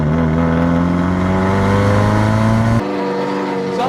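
A modified Maruti Zen budget track-day car with a 1.6 engine drives on a race track, its engine droning loud and close at steady high revs before it abruptly eases off near the end.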